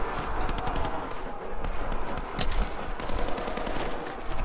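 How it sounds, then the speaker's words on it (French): Video game gunfire from Rise of the Tomb Raider, with a pump shotgun used in combat, sounds as a dense run of repeated sharp cracks over game ambience for several seconds. "Une belle esquive et le fusil à pompe, il n'y a rien de mieux contre ses adversaires."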